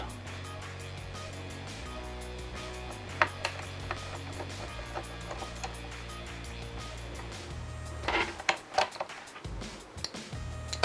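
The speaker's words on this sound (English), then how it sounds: "So basically, unscrew these two screws." Screws being unscrewed inside a SEGA Dreamcast console: faint, scattered ticks and clicks over a steady low hum, with a denser cluster of sharper clicks near the end.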